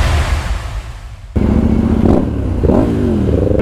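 A motorcycle rides toward Montpellier with a passenger on the back, its engine building from a rough idle into loud, close revving with rising pitch sweeps as it accelerates. No one speaks.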